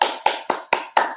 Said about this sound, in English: let me just give you guys a round of applause